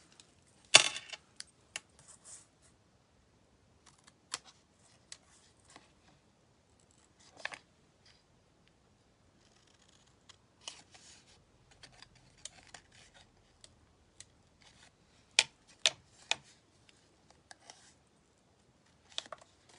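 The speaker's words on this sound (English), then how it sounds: "I'll just snip them out." Scissors snip out cuts in a paper pop-up rotating circle card, with sparse, crisp clicks scattered through quiet stretches and a few louder clustered snips near the start and toward the end.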